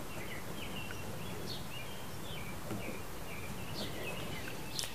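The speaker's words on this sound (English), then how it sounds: "I hear birds behind me right now" Small birds chirp and sing outdoors in short, repeated high calls, faint and somewhat distant over a steady background hiss.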